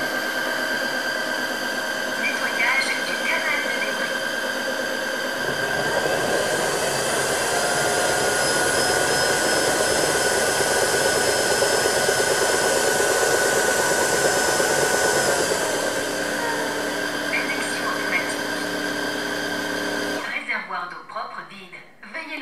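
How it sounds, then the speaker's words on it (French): A Tineco Floor One S3 cordless wet vacuum running its self-cleaning brush roller cycle, a steady close whine that deepens into a louder whirring rush mid-cycle, then stops, with someone speaking over it. "Nettoyage du rouleau brosse. Donc là, il y a de l'eau qui est envoyée sur le rouleau et elle va être aspirée."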